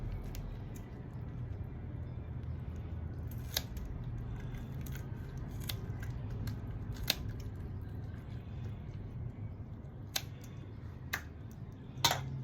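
Scissors used for cleaning fish at home snip in sharp, scattered clicks over a steady low background hum, with a few louder cuts near the end.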